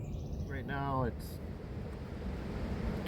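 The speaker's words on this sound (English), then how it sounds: "25-mile-an-hour wind is what it says out there." Strong lake wind of about 25 miles per hour blows steadily into the microphone outdoors ahead of a storm, a constant roaring rush with small waves washing in and a short voice-like tone early on.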